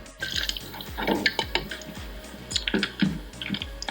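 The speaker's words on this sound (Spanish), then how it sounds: "Pues vamos a darle agüita." Water pours into a drinks can tipped on its side, with a run of close, bubbly glugs and drips repeating in an uneven rhythm, and no voices.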